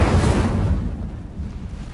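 An Incendio fire spell cast in the Hogwarts wizarding video game: a single loud, roaring whoosh of flame that is strongest at the start and fades into a hissing rush over two seconds, with no voices.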